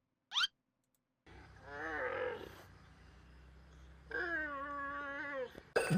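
Hippopotamus vocalizations: deep, drawn-out groaning calls in two long bouts, fairly close, with a brief sharp squeal before them and a burst of noise at the end.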